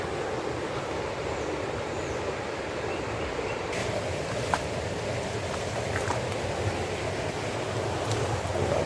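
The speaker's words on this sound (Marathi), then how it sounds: "पाणी बघा आलं आहे आता आवाज येतोय" River water in the Konkan flowing after the first monsoon rain, a steady broad rushing roar heard close by and unchanging throughout, with no talk.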